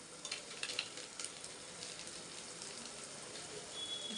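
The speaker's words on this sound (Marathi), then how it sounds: "अख्खे बघा कसं मस्त फ्राय व्हायला लागलेत" Whole spices sizzle and crackle in hot oil in a pan for masala rice, a steady close frying hiss with quick pops scattered through it.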